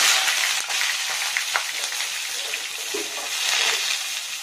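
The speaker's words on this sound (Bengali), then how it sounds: "5 ফোড়নটা ফুটে গেছে, আলুটা দিয়ে নিচ্ছি।" Raw potatoes going into oil with sizzling panch phoron, a loud, close, continuous hiss of frying with crackling bubbles that stays steady throughout.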